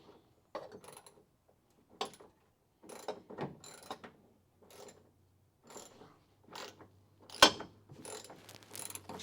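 Ratchet with a half-inch socket turning bolts on a Crew Cab Charger, heard as short bursts of clicking and mechanical rattling separated by pauses, fairly close and moderately loud.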